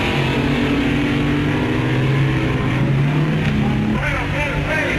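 A Dragmaster dragster roars down the drag strip, its engine a loud sustained drone that shifts pitch partway through, heard under a commentator's narration.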